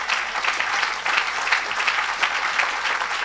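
A church congregation claps together in a continuous dense round of applause, fairly loud and steady, with faint cheering mixed in.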